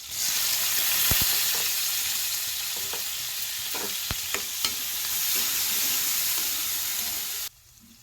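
Chopped onions, garlic and green chillies sizzle in oil with mustard seeds and cumin in a pan: a steady, close frying hiss with sharp stirring clicks, cutting off abruptly near the end.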